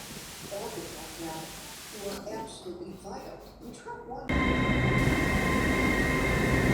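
Train noise at Doncaster station: a low rumbling hum with clattering from an Azuma train, then a sudden steady, louder roar with a bright high whine, as if the train starts moving.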